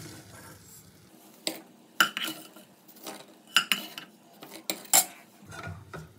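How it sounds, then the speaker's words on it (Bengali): Fried lentil dumplings (bori) lifted from a pan into a bowl: scattered metal and dish clinks, a few sharp ladle taps against the vessel, sounding close and fairly quiet with no talk. "এবার তুলে নেবো একটা পাত্রে।"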